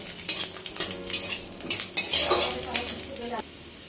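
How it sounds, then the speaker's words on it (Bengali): Garlic frying in oil crackles and sizzles loudly up close. Clinks of a spoon or ladle against the pan and stirring scrapes come through in busy bursts. "রসুনগুলো লাল করে ভেজে নেবো"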